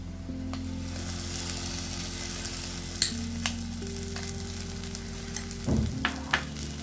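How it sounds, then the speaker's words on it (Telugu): Gongura (sorrel leaves) dropped into a hot frying pan for prawn curry and stirred, giving a steady sizzle with a few sharper clatters of the spoon and leaves near the end, close and continuous with no talk. "గోంగూర వేస్తున్నామండి"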